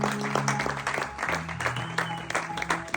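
A church congregation cheering and clapping in praise of God during a praise and worship day, sustained applause and voices from a crowd filling the room, close and lively.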